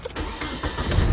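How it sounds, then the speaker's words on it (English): A 1993 Nissan Altima with a 2.4 engine that stalls out when hot cranks and starts, a brief, loud, steady mechanical whir and rumble up close with no talk. "Now we're going to start the car."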